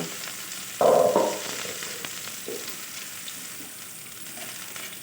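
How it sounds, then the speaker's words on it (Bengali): Chopped onion hits hot oil in a pan for a quick egg snack, giving a sharp sudden sizzle that fades to a steady, softer frying crackle with a few stirring scrapes. "পেঁয়াজটা আমি একটু ভাজা ভাজা করে নেব"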